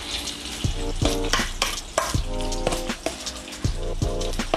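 Vegetable fritter batter with egg and cheese, a flourless bakwan sayur, frying in hot oil, a steady close crackling sizzle broken by repeated scraping and stirring knocks, with no talking.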